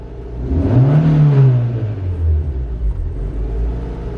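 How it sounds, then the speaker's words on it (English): A car engine with a vacuum leak revs up loudly and close as the gas pedal is pressed, then its deep rumble falls back toward idle. "If I press on the gas pedal, an engine will get more air anyway"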